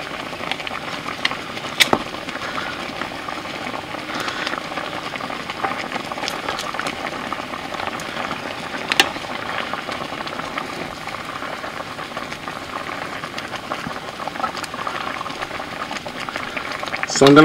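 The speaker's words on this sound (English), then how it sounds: "my gravy's coming to a boil" Gravy bubbling steadily at a boil in a pan with turkey legs for Southern smothered turkey, a continuous close simmering hiss and pop with a few sharper clinks and spurts throughout.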